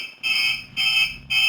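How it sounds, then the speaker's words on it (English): An electronic alarm beeps repeatedly during a power failure, three shrill, evenly spaced tones about half a second apart, loud and close with no talking. "you can hear the beeping"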